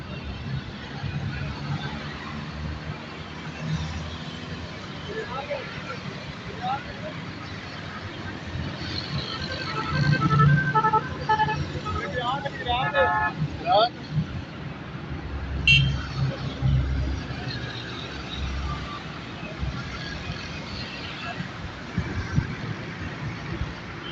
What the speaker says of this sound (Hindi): हाईवे से ट्रैफिक आ रही है सुवां की तरफ से